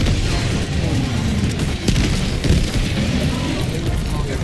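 Loud, continuous rumbling explosions from LPG tanks blowing up in the video game Helldivers 2, with booming bursts layered over dense combat noise for several seconds.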